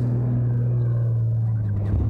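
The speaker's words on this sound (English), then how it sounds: "The medic vehicle." Rally medic vehicle driving on an offroad track, a steady low engine rumble with a constant hum, close and loud, briefly swelling at the end.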